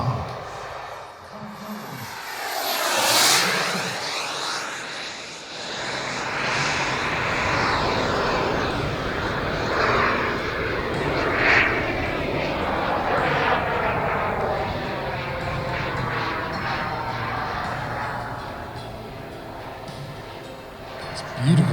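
A radio-controlled CARF model MiG-17 jet at the Weston Park RC airshow sweeps past from left to right, a loud steady jet roar that swells and holds, with a commentator talking over it.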